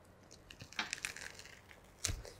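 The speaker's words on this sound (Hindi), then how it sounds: "इस पॉलीथीन को निकालना।" Plastic polythene wrap crinkles and tears as it is peeled off a new helmet, quiet and close, with scattered crackles and a sharper rip near the end.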